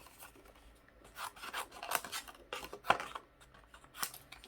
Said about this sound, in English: And now I'm just gonna take some scissors.